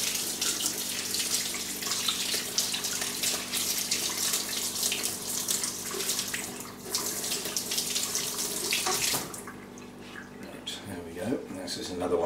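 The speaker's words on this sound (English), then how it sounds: "Give it a rinse under the tap because I didn't actually do this one." Running water from a tap splashes steadily as a store-bought phalaenopsis orchid is rinsed, a close, continuous hiss and patter that softens near the end.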